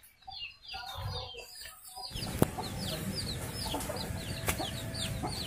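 Chickens in a small backyard pen with birds and rabbits cluck repeatedly in a busy, overlapping chorus, close and fairly loud, with a brief burst of handling noise at the start.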